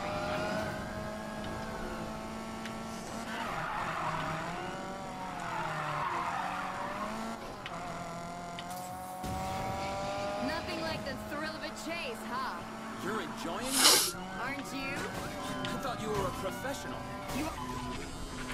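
A car in Need for Speed Payback drives hard with a steady engine drone, sliding skids and tire squeals rising and falling, under ongoing spoken dialogue and a sharp louder burst near the end.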